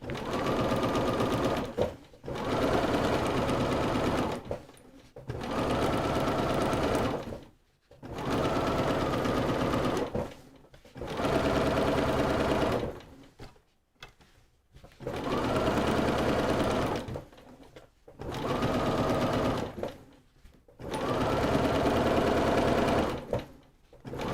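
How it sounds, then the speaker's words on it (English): Domestic sewing machine stitching a line all the way around a piece of fabric, running in steady loud bursts of a few seconds each, separated by short pauses, with no talk. "one more line of stitching going all the way around to flatten this out"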